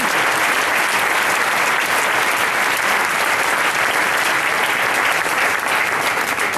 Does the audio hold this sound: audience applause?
yes